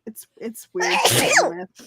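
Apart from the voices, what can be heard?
sneeze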